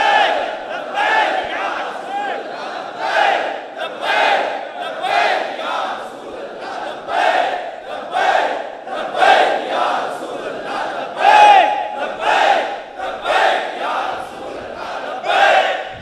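A large crowd chants religious slogans in rhythmic, repeated bursts, voices rising and falling in unison roughly every second with loud, sustained energy throughout.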